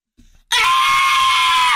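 A loud, piercing scream erupts suddenly after a brief low murmur and holds steady at full volume, very close.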